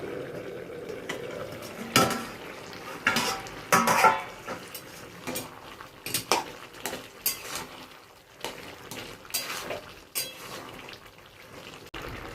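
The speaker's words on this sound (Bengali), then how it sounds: "ঢাকাটা খুলে নেব" A metal pot lid lifts off a simmering pot with a few sharp clanks and scrapes, scattered among quieter cookware knocks and soft stirring.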